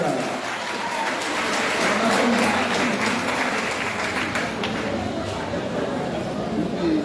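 Audience applause welcoming the Bon Berger school team at a quiz final in Limonade, a dense steady wash of clapping held for the whole stretch, moderately loud and close.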